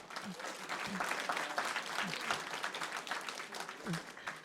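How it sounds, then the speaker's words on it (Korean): A church congregation at a Wednesday worship service claps after books are handed out as gifts. The applause is moderate and fairly close, with voices and a few murmurs mixed in. "박수 한번 부탁드리겠습니다."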